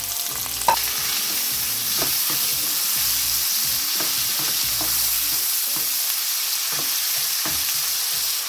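Onions fry in oil in a pan, a continuous close sizzle broken by repeated scrapes and clatters of stirring.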